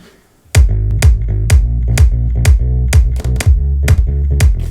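A bass line layered with a punchy kick drum and sub bass plays loud and steady, a rhythmic pattern of heavy low hits and sustained low notes starting after a brief silence.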